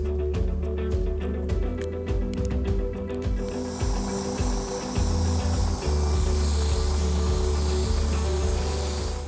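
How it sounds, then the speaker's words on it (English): A spray can lays clear coat on a 3D-printed prop blaster, a loud close continuous hiss that builds after a few seconds of rattling and runs steadily over a low background hum. "I did another layer of clear coat on this bad boy to protect everything we've done so far"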